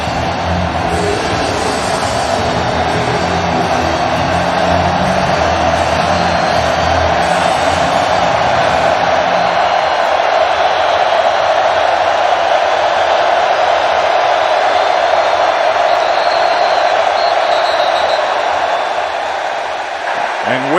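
Loud, roaring stadium crowd at a Texas vs Arkansas college football game, a steady wall of noise that swells and holds for the full stretch, with no distinct voices standing out.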